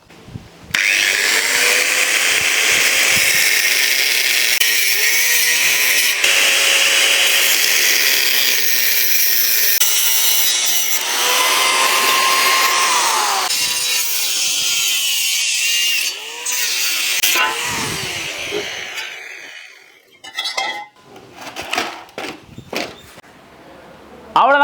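A power saw cutting a second-hand bicycle frame into two pieces, a loud steady whine with pitch shifts as the blade bites, lasting most of the time before trailing off into clanks and handling noises.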